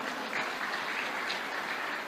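Crowd applauding at a public gathering, a continuous, fairly distant wash of clapping hands with no break, heard alone without speech.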